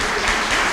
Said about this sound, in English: A nice round of applause for Rashern Baker and the county council, please.